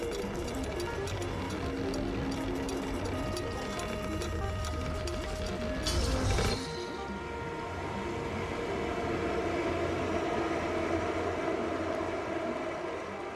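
A train starting and running in the video game Stray: a steady, loud mechanical rumble with clattering rhythm, a brief louder surge midway, then continuing to roll along evenly.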